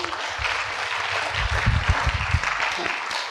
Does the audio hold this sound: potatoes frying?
no